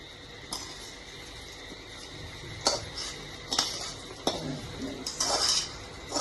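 Washed rice added to a cooking pot for chicken khichdi in a home kitchen, with sharp metallic clinks and scrapes of a utensil against the pot at irregular intervals over quiet background noise.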